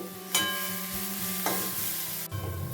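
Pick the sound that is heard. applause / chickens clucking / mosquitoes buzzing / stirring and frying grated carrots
stirring and frying grated carrots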